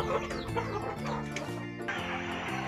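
Ayam kampung, native village chickens, cluck repeatedly in short, close, overlapping calls, with a dense flock chatter filling the background.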